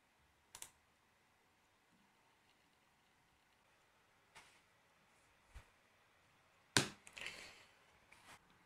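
A few scattered, isolated clicks and key presses on a computer, faint and separated by long quiet gaps, one sharper tap louder than the rest.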